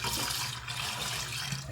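Water running steadily into a 2-gallon garden sprayer, a constant broadband rushing hiss that stays loud and close throughout, with no talk.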